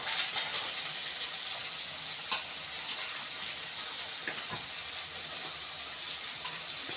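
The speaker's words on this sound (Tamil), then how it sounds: "கேரட் வந்து போட போகிறோம்." Carrots hitting a hot pan for vegetable Maggi noodles, a steady bright hiss of sizzling oil with a few soft clicks and scrapes, close and continuous.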